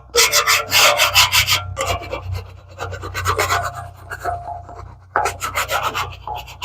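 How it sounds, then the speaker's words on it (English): A metal scraper works over buildup inside a steel drum smoker, close and loud, in rapid bursts of rhythmic rasping strokes separated by short pauses. "just do a light scraping."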